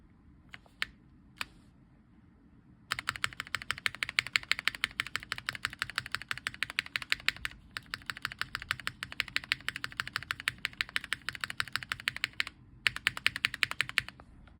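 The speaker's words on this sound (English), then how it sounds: "now we're going to test the spacebar. This is a Hyperglide." A Cherry MX Hyperglide mechanical keyboard spacebar is pressed rapidly over and over, giving dense, crisp clacks in a fast steady rhythm after a few isolated opening taps, close up with short pauses between bursts.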